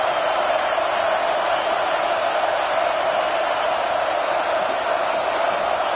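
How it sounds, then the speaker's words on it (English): A packed football stadium crowd roars in a steady, loud, unbroken wall of noise that fills the whole space, with no single voice standing out. "Listen to this crowd just shaking the girders of this place"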